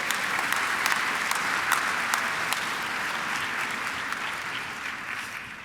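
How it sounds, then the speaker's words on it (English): A crowd at the Pasadena Mayor's Interfaith Prayer Breakfast applauds the Pasadena Fire Department Honor Guard after it presents the flags, a dense, even burst of clapping that tapers off at the end. "can we give a big round of applause to the Pasadena Fire Department Honor Guard for"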